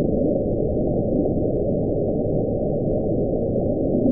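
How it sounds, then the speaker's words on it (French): Iceberg grounding and scraping along the sea floor, captured by a hydrophone in the Pacific and sped up 16 times, forms a steady, dense low rumble with no breaks, loud throughout. "de l'échouage d'un iceberg sur le plancher sous-marin."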